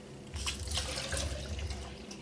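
Liquid water runs steadily from a tap into a sink, making a continuous close splashing rush that starts abruptly and holds for a couple of seconds.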